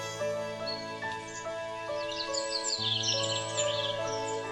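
A sparrow in a tree chirps in high, quick bursts over a steady bed of sustained music, moderately loud and continuous throughout, with no talk.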